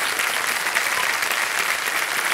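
Steady applause from a studio audience on a television quiz show fills the moment, dense and even throughout with no voices on top.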